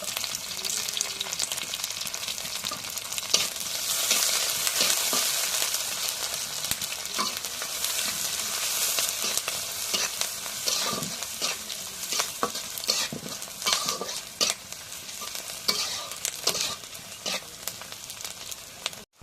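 Steady, close hiss and crackle of green chilies and onions frying in hot oil, with frequent scraping and stirring clatters throughout and no voices.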